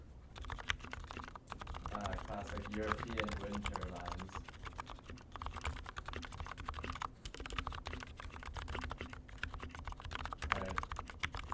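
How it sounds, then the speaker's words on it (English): Typing test on a full-size GMMK keyboard fitted with lubed Gateron Silent Yellow switches: a steady, muffled stream of soft keystrokes at close range, while a voice talks throughout. "But now we got to do the typing test."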